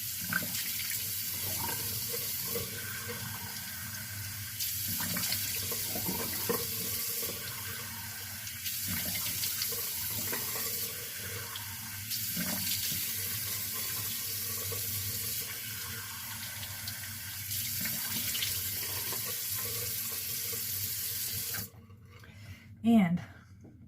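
A tap runs into a sink as cream is rinsed off the hands, a close, continuous splashing hiss that shifts as the hands move through the stream, then cuts off near the end, followed by brief handling noise and a short voice.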